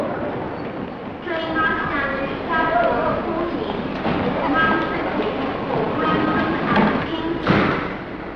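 A train pulls into a platform at York station in 1953, a rolling rumble with rhythmic thuds and clanks from the carriages, under a spoken voice.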